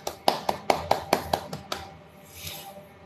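Congregation clapping during a live church service, roughly eight sharp, evenly spaced claps that stop, followed by faint murmuring.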